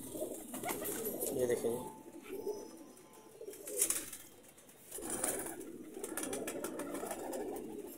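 Teddy pigeons in a breeder setup coo in soft repeated rolling phrases, close and moderately loud, with someone speaking briefly between the calls.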